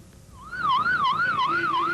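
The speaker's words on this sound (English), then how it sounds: "The wail of ambulances and fire trucks in Baghdad" Wailing ambulance and fire truck sirens on the streets of Baghdad, a steady rising-and-falling electronic wail repeating about every half second, fairly loud and unbroken, with no voices over it.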